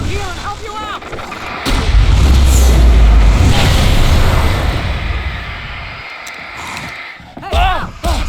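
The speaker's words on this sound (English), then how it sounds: "I can set off more of the fireworks from here and help you out!" Fireworks go off in the video game Alan Wake Remastered, a series of deep booming blasts and rumbling bursts with a loud sustained roar in the middle, while voices talk over parts of it.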